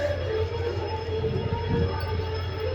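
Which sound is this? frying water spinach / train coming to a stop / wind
train coming to a stop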